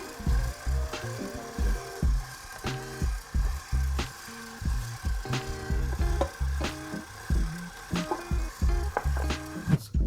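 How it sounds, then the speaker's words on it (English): Cake batter of flour and milk for a smoked blueberry upside down cake is stirred in a bowl, with rhythmic scraping and thumping strokes repeating steadily and close. "Mix it for like 30 more seconds"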